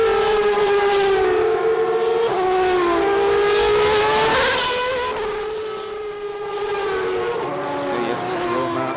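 Superleague Formula single-seater race cars accelerate away from the start at the Nurburgring, a loud high-pitched engine whine rising and falling through gear changes as the pack roars past, with commentary over it.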